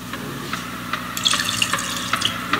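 Water runs steadily from a tap into a container while making juice from Haribo gummy bears, a continuous hiss with scattered bright splashes and drips, close and moderately loud, with no talking.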